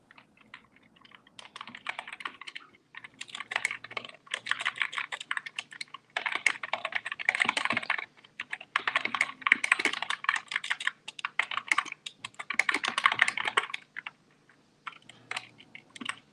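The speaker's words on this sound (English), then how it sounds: "I just heard Dee typing." Someone types on a computer keyboard during a live online chat. Dense bursts of quick key clicks come in several runs with short pauses between them, fairly close and moderately loud, with no talking over them.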